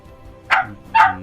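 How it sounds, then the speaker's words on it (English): A dog barks twice, close and loud, two sharp separate barks about half a second apart over a quiet room. "Pardon the barking."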